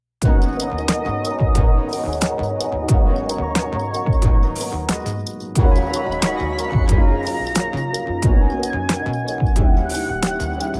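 A looping drum beat made with Arcade, punchy kicks, snappy snares and crisp cymbal hits, repeating steadily in a groovy pattern with no voices.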